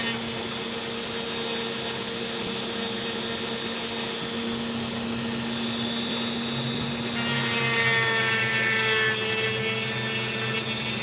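A lapidary saw or grinding wheel cuts into an opal, a steady mechanical whine with droning hum holding throughout and a brighter, harsher grinding edge coming in near the end as the stone is worked.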